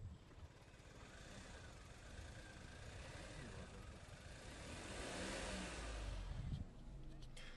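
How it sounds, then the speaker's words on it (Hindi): A Maruti S-Presso car engine drones steadily and rises in pitch as it revs, with a rumbling low end that swells toward the end before easing off. "तो अगर मैं रेव करूँगा तो दिस इज़ द नॉइस।"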